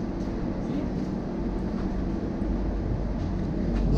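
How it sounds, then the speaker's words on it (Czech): Train running, heard from inside the carriage on a trip to Britain: a steady, loud low rumble and rolling noise throughout, with faint rattles and no speech. "Vítejte ve vlaku."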